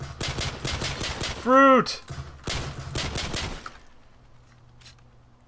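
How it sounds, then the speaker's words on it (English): Close gunfire in the Call of Duty: Modern Warfare video game pounds out in rapid bursts of sharp shots, broken by a brief shouted exclamation, then a second volley before fading to quiet room tone. "they let me shoot through the wood?"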